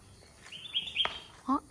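A few quick, high-pitched chirps and tweets from small birds, fairly faint and scattered over a quiet outdoor background near a house.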